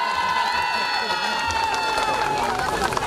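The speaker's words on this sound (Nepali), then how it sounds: "ताली" An audience applauds at a hospital anniversary ceremony, a dense and continuous clapping from a large crowd that holds steady from start to finish, with faint murmuring and voices mixed in.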